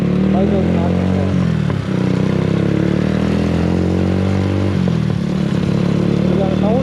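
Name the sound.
Apache RTR 180 motorcycle revving with new exhaust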